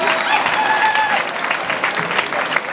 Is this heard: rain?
no